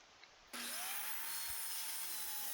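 Power saw starting up and cutting wooden boards to 12-inch lengths for a slide-out shelving unit, a sudden loud, steady whine that holds through to the end.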